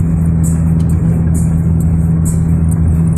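A car drives steadily along a road, giving a loud, constant engine drone and road rumble, with faint high chirps recurring above it and no talk.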